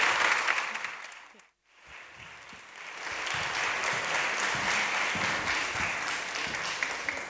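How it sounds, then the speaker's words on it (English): Applause from an audience at a creative meetup for a YouTube content creator, a broad sustained roar of clapping that drops away briefly, then swells back and carries on steadily to the end. "please join me in giving a huge round of applause to Patricia Bright."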